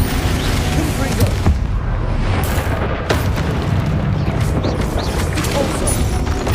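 Confringo fire spell blast in Hogwarts Legacy: a rumbling explosive burst sits over a continuous dense roar of battle noise, with a few sharp cracks and impacts scattered through and faint voices now and then.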